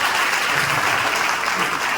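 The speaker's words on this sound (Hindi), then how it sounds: "ताली तो बजाओ यार।" A college Hindi Divas celebration audience claps in a dense, loud, continuous burst of applause, steady throughout with no voices over it.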